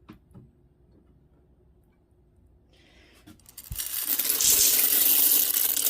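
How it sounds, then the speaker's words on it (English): Dry pasta sprinkled into an Instant Pot for creamy chicken pasta: a few light clinks at first, then a sudden, steady rattling pour of pieces landing close up, continuing to the end with no talking. "we're going to go ahead and add our pasta"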